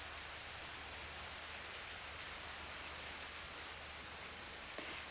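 Steady rain falls over a jungle rainforest, a soft even hiss of drops on leaves and surfaces, faint and continuous with a few louder nearby drips.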